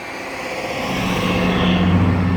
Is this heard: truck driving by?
yes